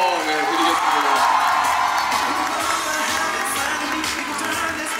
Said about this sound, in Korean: 앞으로 많이 도와주시라는 의미에서 박수 한번 네, 드리겠습니다